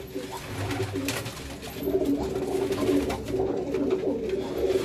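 Pigeons being fed grain give soft repeated cooing close by, layered over a low murmur of background noise with no speech.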